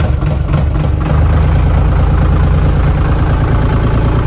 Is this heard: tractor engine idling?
yes